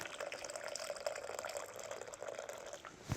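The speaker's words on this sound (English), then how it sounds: "we're adding in 2 cups, 500 millilitres of boiling water from a kettle" Hot water pours steadily from a kettle into a bowl, a continuous splashing trickle with no voices.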